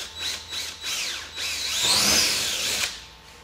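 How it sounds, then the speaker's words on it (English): Power drill boring a small pilot hole with a smaller bit during a street legal kit install, a close, loud whirring in several short bursts that rise and fall in pitch, ending in one longer sustained run. "on this one I'm going to start with a smaller bit so I can drill a pilot hole"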